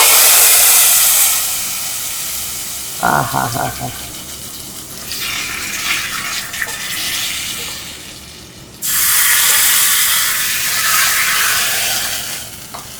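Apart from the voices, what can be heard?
hot tempering poured into buttermilk curry, sizzling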